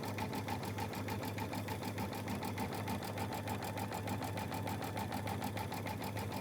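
A sewing machine stitches a Star-Spangled Beauty ladder quilt, running steadily with a fast, even mechanical pulse and a low hum, fairly quiet and uninterrupted.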